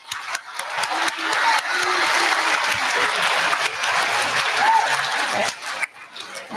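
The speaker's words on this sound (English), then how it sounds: "one more round of applause for" A crowd applauds steadily, dense clapping that swells and holds for several seconds before thinning out at the end.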